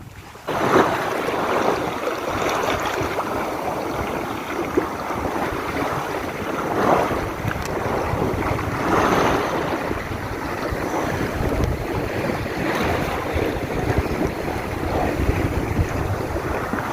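A sailboat under way at sea, with constant strong wind buffeting the microphone over rushing water and waves breaking along the hull, loud and continuous with no clear voices.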